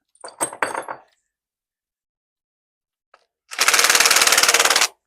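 An impact gun drives bolts during a 392 stroker engine build, a loud, sustained rattling burst after a short clatter of parts and a stretch of silence.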